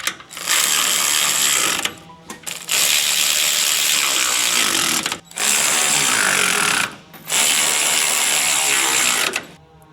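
Ratchet tightening the mounting bolts on a 1972 Chevelle suspension install, a loud continuous rapid clicking in three long bursts separated by brief pauses, with no talk.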